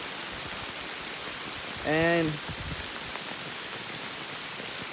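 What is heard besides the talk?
heavy rain falling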